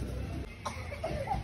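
A single soft cough, fairly quiet and brief, over low background noise.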